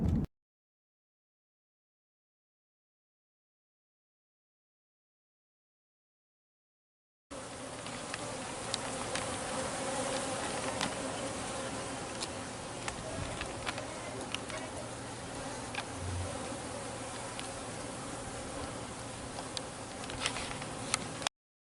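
Honeybees buzz densely around their hive, a steady close swarm hum with scattered louder passes, after several seconds of silence at the start.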